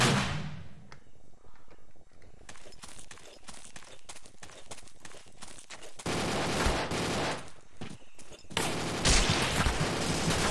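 Multiplayer Vietcong 2 firefight with rapid bursts of automatic gunfire and scattered single shots, loud and close, continuing densely throughout with heavier volleys in the later seconds.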